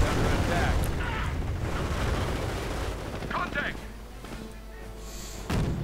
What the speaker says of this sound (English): Calliope barrages going on the base.